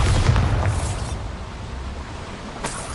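Bombarda spell explosion in a Harry Potter video game, a loud low boom at the start that rumbles and fades over a few seconds, followed by a faint later burst.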